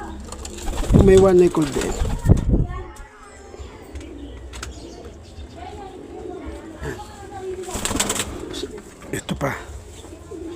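Pigeons cooing close by in a low, throaty run while a bird with a one-eye cold is dosed with dexamethasone, with someone talking over and between the calls and some rustling handling noise.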